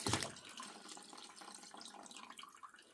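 Wine running by gravity through a hose siphoned from a barrel, pressed grape pomace left inside; a steady trickling, splashing flow close by, with a louder gush at the start, no talking.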